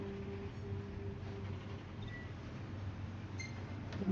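A train rolling along rails in Final Fantasy XV, a steady low rumble with a faint hum and occasional light clanks, continuous and moderately distant, with no talk.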